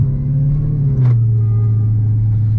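A Dodge Hellcat engine drifting in second gear through an uphill S-turn gives a loud, close, steady low rumble with a slight pitch drop midway.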